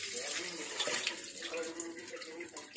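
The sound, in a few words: washing with running tap water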